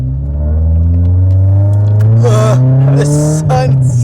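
Nissan S14 engine revving hard with a clutch kick, a loud, close, rising raspy roar that climbs steadily in pitch before breaking into sharp bursts near the end.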